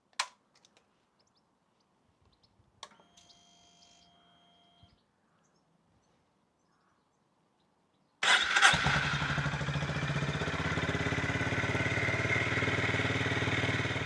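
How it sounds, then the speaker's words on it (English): Honda GB350S motorcycle engine after a DNA air filter installation: a near-silent stretch with a few faint clicks, then the engine fires up at about eight seconds and keeps running steadily, loud and close. "we're going to leave this to run for 10 minutes"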